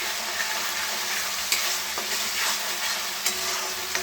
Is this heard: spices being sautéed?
yes